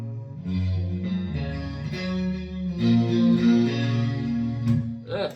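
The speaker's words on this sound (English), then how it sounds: "the Roland JC120 model, which is pretty accurate" Clean electric guitar chords through a BOSS GT PRO's Roland JC120 amp model, with a shimmering chorus-like effect, strummed and sustained, playing alone at moderate loudness.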